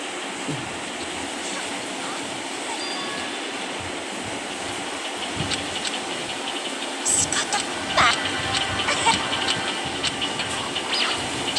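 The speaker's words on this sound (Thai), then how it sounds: "ฝนตกหนักมากเลยวันนี้" Heavy rain pouring steadily as a broad, even hiss in the background, with scattered louder patters and a voice talking over it.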